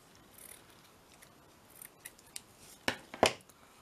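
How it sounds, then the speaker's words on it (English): Scissors snip down through fabric left to fray, giving two sharp, close cuts near the end after a few faint rustles, with no talk. "I'm going to cut down through here because I want it to fray."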